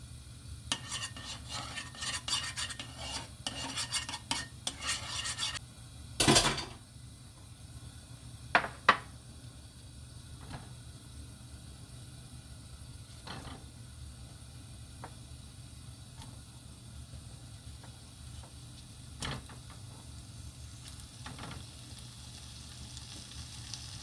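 Semi-dried mackerel fries in a tablespoon of cooking oil in a pan, giving a faint, steady sizzle with scattered ticks and crackles and one sharp clatter partway through.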